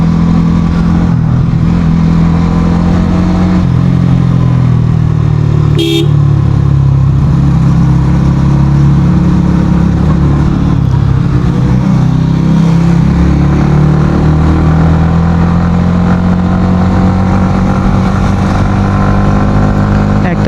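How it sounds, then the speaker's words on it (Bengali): A group of three motorcycles, including a Yamaha R15 V3, cruising on a road in Bangladesh, with a loud, steady engine drone and wind rush that continues without a break. "তো আমরা এই 3 বাইক যাচ্ছি।"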